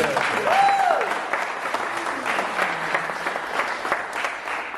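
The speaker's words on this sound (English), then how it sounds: "Another round of applause for these amazing artists." A crowd applauds artists at an arts event on Black men and mental health, giving a full, sustained round of clapping. A brief rising-and-falling whistle-like tone sounds early on.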